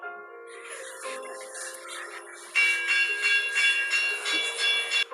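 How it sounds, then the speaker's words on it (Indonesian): A bell rings with sustained metallic tones, growing louder and busier midway, steady and fairly near with no voices. "mendengar sebuah lonceng yang menandakan prajurit Nippon akan datang"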